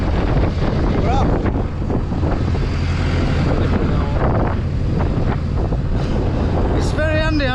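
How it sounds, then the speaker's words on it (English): Gale-force wind roars loud and steady across the microphone at an excavator work site, heavy buffeting throughout, with brief faint voices beneath and a thin whistling tone near the end. "I don't know what you can hear because it's blowing a gale here."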